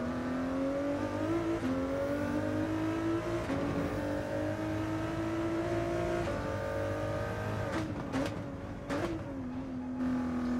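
A race car engine in Gran Turismo 7 circling the Daytona circuit, droning steadily and close with its pitch gently rising and falling, plus a couple of brief gear-shift dips near the end.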